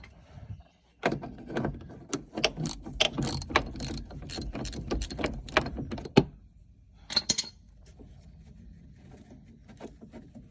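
A ratchet cranks off bolts underneath a full-size Chevy Blazer, quick clicking bursts with metallic clanks, close and loud, then a few sparse clicks before it goes quiet.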